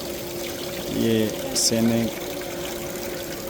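A waterfall at the Imam Raza shrine in Mashhad pours in a steady, continuous wash, while someone speaks over it in the foreground.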